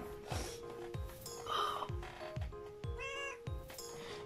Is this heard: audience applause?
no